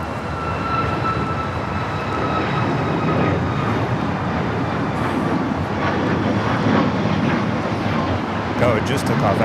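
A jet airliner takes off from the north side of LAX, its engine roar distant and broad, a steady rumble with a faint whine heard through continuous background noise.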